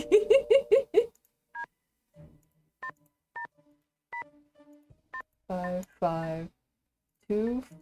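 Telephone number punched in during a Nancy Drew video game, a run of short separate keypad tones spaced irregularly, with speech before and after the dialing.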